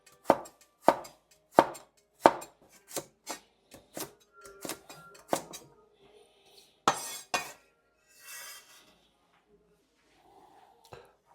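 A knife cutting carrots in half on a cutting board, with a run of sharp, regular chopping knocks up close that slow and thin out, and a few softer clinks and rustles near the end.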